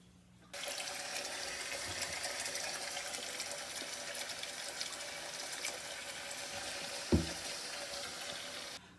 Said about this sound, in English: While the warm water is running